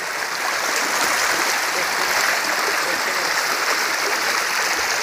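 Heavy rainwater pouring out over a farm check dam in Beed, a loud, steady broadband rush of flowing water throughout, close and continuous.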